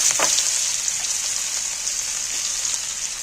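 Finely chopped onions hit hot oil with cloves and whole cumin, giving a loud, continuous close-up sizzle with a few sharp crackles at the start.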